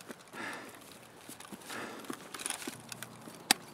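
Soft, irregular footsteps crunch and thud at moderate distance in Escape from Tarkov, patch 0.13, over low background ambience, ending in one sharp metallic click.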